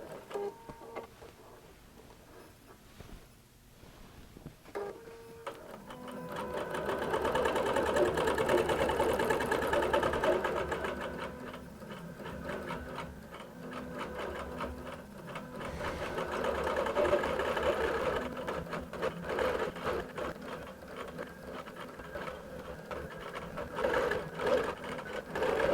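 A QBOT V3 robot guides a quilting sewing machine around an inner appliqué boundary, its motor whirring in long swelling passes with rapid stitching clatter, moderately loud and continuous.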